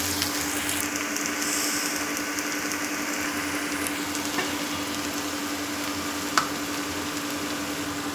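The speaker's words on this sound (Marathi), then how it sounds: "तर मस्त अशी कमी गॅसवर परतू देते मी छानपैकी." A vegetable sautés gently over a low gas flame, producing a soft, even sizzle that holds steady throughout, with one sharp click of a utensil near the end and no speech.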